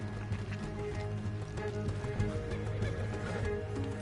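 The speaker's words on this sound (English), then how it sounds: "Let's get to those horses, Morgan." Rhythmic clip-clop of horse hooves over a dense, continuous Red Dead Redemption 2 soundtrack, with no voices, the hoofbeats steady and fairly close.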